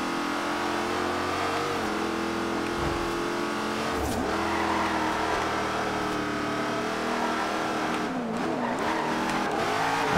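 A car drifting in Forza Horizon 2, its engine droning steadily at high revs while tires squeal in wavering bursts through the turns, loud and continuous.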